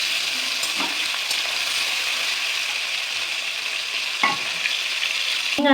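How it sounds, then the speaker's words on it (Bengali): Prawns fry in hot oil with a steady, loud sizzle, broken by a few scraping stirs of a spatula in the pan. "এবার মাছগুলোকে নাড়িয়ে ছাড়িয়ে লাল লাল করে ভেজে নিচ্ছি"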